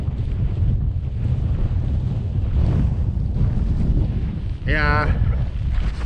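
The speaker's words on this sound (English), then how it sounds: "rather kind of windy" Strong wind gusts across a mountain campsite, a loud steady roar buffeting the microphone throughout, with a brief voice heard near the end.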